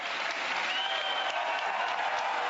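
An audience at a televised political event breaks into sustained, dense applause on cue, a steady wash of many hands clapping with no gaps throughout.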